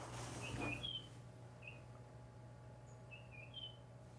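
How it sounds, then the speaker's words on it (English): A bird chirps just outside a window indoors, giving a few short, thin high calls spread across the clip, faint and fairly close over a steady low room hum with no talk. "There's literally a bird right at my window."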